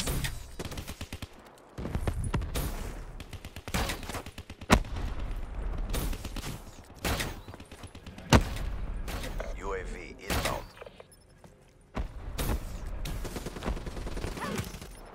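Gunfire in Call of Duty: Black Ops III, with repeated bursts of automatic weapon shots and a few sharp single cracks, separated by brief lulls across the stretch and set at a moderate distance.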